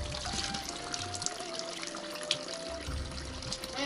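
Water trickling and splashing from a spring spout at a rural fountain near Vila Nova de Milfontes, Portugal, a continuous close bubbling flow with no talk.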